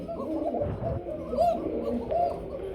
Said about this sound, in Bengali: শুধু দেখবেন বন্ধুরা ডিমের কুকা কি পরিমাণ ডাকে আর এদের আওয়াজটা কত উচ্চর স্বরে